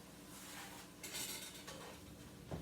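Onions and cooked ground pork stirred in a pot, a brief scraping and clinking of a utensil against the pot over a faint sizzle, close and without talk.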